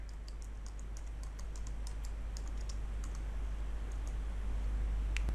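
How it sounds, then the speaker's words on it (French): Quick, steady keystrokes on a computer keyboard as a shutdown command is entered on a Windows Server 2016 machine, close and clear over a constant low hum, ending in a sharper key press. "appuie sur la touche entrée du clavier pour valider la commande"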